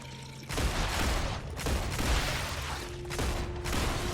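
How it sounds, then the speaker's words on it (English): Rapid gunfire from a gun in the sci-fi video game StarRupture, a dense, loud run of overlapping shots broken by a short pause, with no talking. "The gun sound needs a slight tweak."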